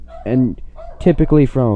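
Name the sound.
dog barking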